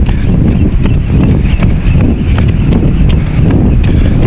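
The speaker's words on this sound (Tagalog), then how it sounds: "Hangin." Wind gusts hard across the microphone while someone jogs outdoors. The low roar is loud and continuous, and faint rhythmic thuds run underneath it.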